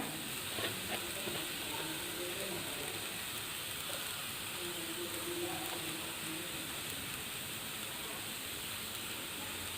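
Grated coconut and carrot sauté in hot butter or ghee, giving a soft, steady sizzle and hiss throughout, faint and even, with no distinct stirring strikes.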